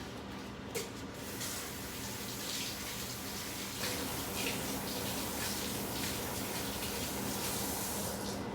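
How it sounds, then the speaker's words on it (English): Tomatoes are washed under a running kitchen tap, a steady close stream of water splashing with a few brief knocks near the start and no talk. "you gotta wash those tomatoes because you need to"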